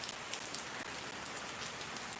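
Rain falls in Shariatpur as a soft, even patter of drops on surfaces, steady and fairly faint with no voices.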